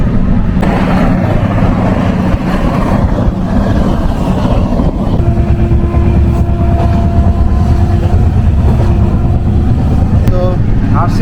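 Steady, loud rumble of a train moving at about 149 km/h between Howrah and Ghatshila, with continuous rattling and rolling noise throughout and a voice talking over it.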